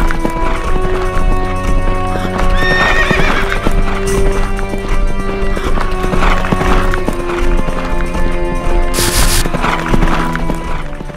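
Horse galloping with rapid clip-clop hoofbeats and a loud neigh partway through, a continuous story sound effect running over music and other layered effects, with no talking.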